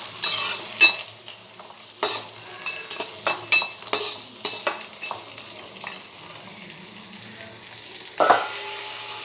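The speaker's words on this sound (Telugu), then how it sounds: "ఇప్పుడు ఇవన్నీ కూడా ఫైన్గా మనం ఫ్రై చేసేయండి ఇలాగా." Onion, garlic and ginger fry in a pan for a paneer gravy, a steady sizzle broken by repeated rhythmic spatula scrapes and stirs, close and fairly loud, with a louder burst near the end.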